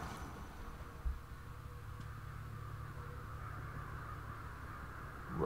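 Crows caw in the Ghostwire Tokyo video game: one short call stands out near the start against a steady low ambient drone, and no one speaks.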